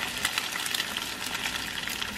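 An egg fries in a good pan with a steady, close crackling sizzle, constant and unbroken throughout with no talking.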